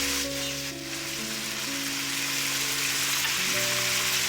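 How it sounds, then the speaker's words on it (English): Pork rib kaldereta simmering in a pot, a steady fizzing bubble that runs close and even, with faint tonal hum lines underneath and no voices. "Let's just let it simmer for a while."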